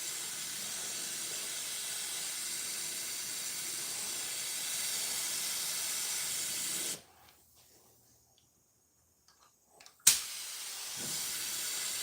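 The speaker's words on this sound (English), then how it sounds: "I'm gonna break out with my touch-up gun." Touch-up paint spray gun spraying, a loud steady hiss that runs several seconds, cuts off into near silence, then resumes with a sharp burst and continues.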